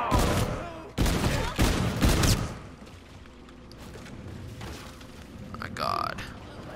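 Gunfire in the video game Call of Duty: Infinite Warfare Zombies. A few loud, sharp bursts land in the first couple of seconds, then give way to quieter game noise and a brief electronic tone near the end.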